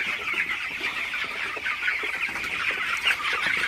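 Broiler chickens on a farm cluck in the morning, a busy, overlapping chorus of soft clucks held at a fairly even level throughout, with no talking.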